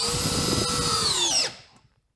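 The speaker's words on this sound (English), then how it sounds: "now the DCD 800 20 volt drill." A DeWalt DCD800 20-volt cordless drill runs at a steady high whine, close and loud, then spins down and stops, leaving near silence.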